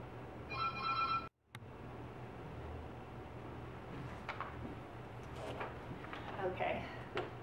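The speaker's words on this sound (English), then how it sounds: "okay, phone rang," A phone rings briefly near the start with a short electronic tone burst, then cuts off, leaving a quiet room hum with faint clicks and small handling noises; fairly soft, no talking heard.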